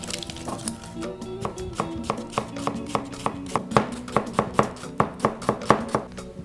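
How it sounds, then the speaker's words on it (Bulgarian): A knife chops onion finely on a cutting board, about twenty quick, evenly spaced close knocks of the blade, loud and steady, with no talking. "ще нарежа този лук на ситно"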